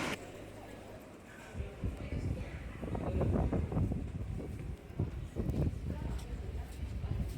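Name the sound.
strong wind blowing at Aarhus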